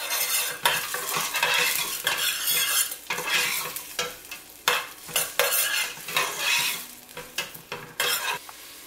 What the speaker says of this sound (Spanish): Vamos a echar aceite en una cacerola para freír la cebolla.